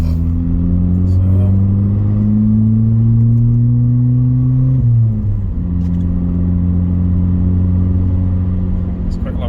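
A car engine with its exhaust removed drones loudly and close, rising slowly in pitch as it revs. Near the midpoint it drops back sharply and settles into a raw, steady idle-like rumble.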